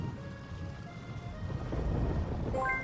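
Thunderstorm in the video game Summer in Mara, with a steady low rumble of thunder and rain wash building louder toward the end, while faint game music tones drift above it.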